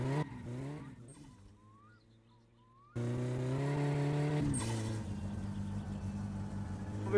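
A car in a Brazilian-style driving simulator game roars in with a loud, steady engine tone that drops away, then surges back louder and holds with a rough, scraping edge as it passes close by.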